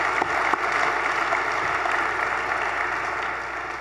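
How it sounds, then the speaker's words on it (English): Audience applause at a regional planning council's State of the Region luncheon, a steady wash of many hands clapping throughout, fairly loud and without talk. "Let's give him a round of applause."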